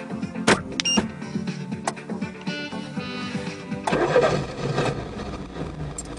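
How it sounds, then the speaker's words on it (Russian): An IZh-2126 car engine starts by remote button while the car sits parked. Clicks and switching noises come first, then the engine cranks and catches into a steady running hum. "Машина сама завелась."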